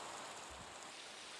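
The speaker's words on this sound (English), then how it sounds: "And now it should stop raining" Rain in the Minecraft video game makes a steady, even hiss of falling drops with a faint low thump partway through. No voices are present.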